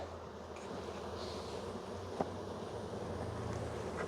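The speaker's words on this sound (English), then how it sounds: "there's a lot of bees" Many bees buzz outdoors in a faint, constant drone, with a soft single knock partway through and a low rumbling hum beneath, with no voices.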